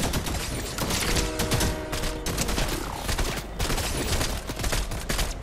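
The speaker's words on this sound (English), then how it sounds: "I hear bullets." Dense gunfire in the Fortnite video game, with rapid overlapping bursts and shots rattling continuously and loudly for several seconds.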